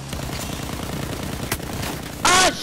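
Close, rapid automatic gunfire in the video game Battlefield 1 repeats as a fast burst of shots, ending with a brief, louder tonal sound. No one speaks.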